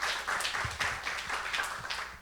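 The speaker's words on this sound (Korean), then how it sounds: "우리 오늘의 인터뷰 주인공 우리 유진솔 선생님을 우리 박수로 환영하겠습니다." A church youth congregation claps to welcome a teacher, a lively burst of audience applause with distinct individual claps audible in an uneven, fairly close patter.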